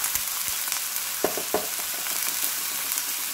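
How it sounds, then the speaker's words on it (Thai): Pad kaprao stir-fried over high heat in a pan, a steady loud sizzle running throughout, broken by a few sharp scrapes and knocks of the spatula and no voices. "ใช้ไฟแรงนะคะผัดกะเพราเนี่ยต้องใช้ไฟแรงนะคะเขาจะหอมนะคะ"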